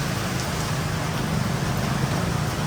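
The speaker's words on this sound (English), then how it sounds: "because it's really raining hectic" Heavy rain pours steadily onto a street in Phitsanulok, Thailand, a dense continuous hiss close by, with a low rumble of passing traffic mixed underneath and no voices.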